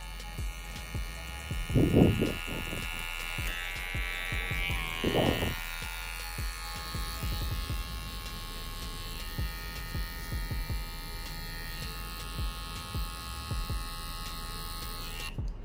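Electric hair clippers buzz steadily through a three-tone fade haircut, held close and continuous, with brief louder bursts of handling early on.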